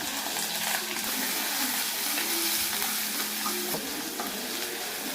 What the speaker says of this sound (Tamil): ஸோ நல்லா வணக்கிடுங்க. ஒரு பிங்க் கலர் ஆகுற வரைக்கும் வணக்குங்க.